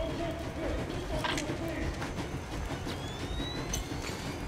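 A train rumbles in steadily in the video game Metro Exodus, with continuous rolling clatter, faint wheel squeals and a thin rising whine over a dense low roar, while a voice talks over it.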